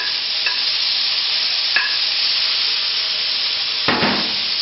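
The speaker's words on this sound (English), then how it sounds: "We're going to need a little bit more oil. Now we're going to put in some tomatoes." Tomatoes tipped into hot oil in a pan and stirred, giving a steady close sizzle throughout with a few sharp scrape clicks from the spoon and a louder burst of frying near the end.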